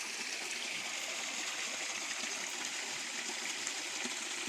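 A river running right beside a house, its steady broadband rush of flowing water continuous and fairly close, with no voices over it.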